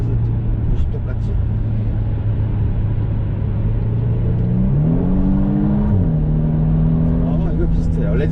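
A Genesis G70 sports sedan with the 3.3 turbo engine accelerates hard from 70 in Sport Plus mode. Heard from inside the cabin, its steady droning engine note climbs in pitch, shifts up once and keeps pulling.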